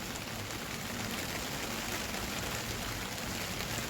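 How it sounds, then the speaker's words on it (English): Steady rain falls on a Saturday morning in Orange County, Southern California, making an even, unbroken hiss of drops that stays level throughout with no voices. "It's raining in LA and Southern California."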